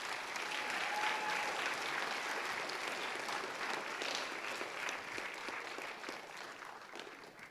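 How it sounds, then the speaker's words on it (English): A crowd at a school fall sports awards night applauds the cross-country team with brisk, full clapping that starts strong and gradually thins and fades toward the end. "give them another round of applause"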